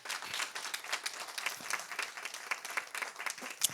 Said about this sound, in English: Can we give a round of applause to all of our community members who asked questions?